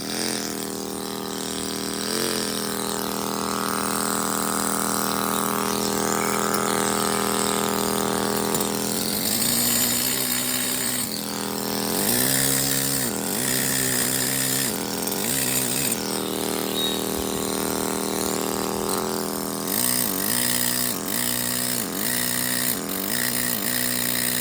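A power tool cuts into stone while beveling the edge of a life-size carved angel, its loud, continuous whine rising and falling in pitch as the blade bites and eases off.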